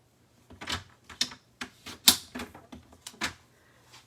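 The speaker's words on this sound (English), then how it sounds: "I'm just gonna cut this with my trimmer and we will put it on the bottom." A paper trimmer slicing a strip of paper, heard as a run of close, crisp clicking and snapping strokes, each short and sharp, with brief pauses between them in a quiet room.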